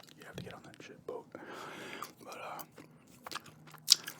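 Gum chewing in a close, quiet ASMR setting, with soft wet smacks and crunchy bites scattered between stretches of whispered talk, and one sharp click near the end.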